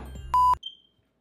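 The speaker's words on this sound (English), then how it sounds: "Beep one more time." A single short, pure electronic beep sounds sharply over a low rumble, followed by a faint high tone and then silence.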